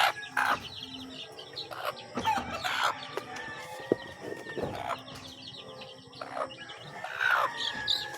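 A brood hen clucks repeatedly nearby amid a busy farmyard, with chicks and other fowl calling and rustling in the background.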